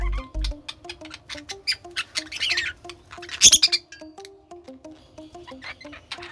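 Pet birds in a home bird house give sharp squawks and chirps, loudest in a burst near the middle, over a steady background hum and patter.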